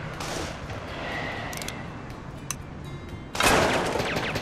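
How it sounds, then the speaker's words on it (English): Gunfire crackles in the Scribblenauts video game, with scattered faint pops giving way to a louder burst of shots near the end, all over a busy background of game noise. "they're shooting at me!"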